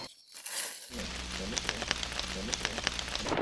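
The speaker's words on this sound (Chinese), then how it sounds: "突如其來的大雨" Sudden heavy rain pours down over a rural fruit orchard in Guangdong, a steady dense hiss with scattered crackling drops that swells after a brief quiet opening and stays loud to the end.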